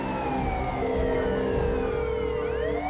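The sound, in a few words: ambulance siren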